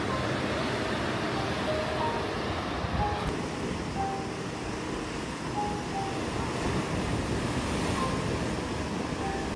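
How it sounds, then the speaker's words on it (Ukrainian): Loud, steady roar of large sea waves and gusting wind across the microphone on the coast of Crete, Greece, continuous throughout with no pauses. "Знов здійнявся вітер і подивіться, які тепер великі хвилі."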